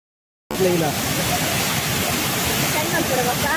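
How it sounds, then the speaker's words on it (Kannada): After a moment of silence, a broad roar of rushing water and heavy rain starts abruptly and holds steady and loud at a waterfall crossing on the Kodachadri trek, with a faint voice underneath. "ಜಲಪಾತ ಕ್ರಾಸ್ ಮಲ್ಪನಗುಂಡಾತ ಜೋರ್ ಬರ್ಸ ಶುರು ಆಯ್ನಿ"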